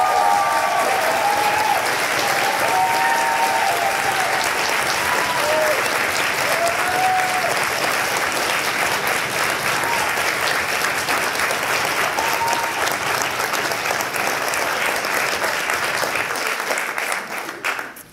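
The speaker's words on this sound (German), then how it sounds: "Einmal bitte Applaus für Berit." Sustained, dense applause from an audience at a university poetry slam, steady and loud for about seventeen seconds before quickly dying away at the end, with faint voices mixed in.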